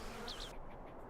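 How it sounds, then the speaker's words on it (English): Bees buzz around a newly placed hive in a video game, a close, steady insect drone that rises and falls in pitch for about half a second before dropping away into quieter background hum. "That new hive will do nicely. I'll just give the bees a while to get used to their new home."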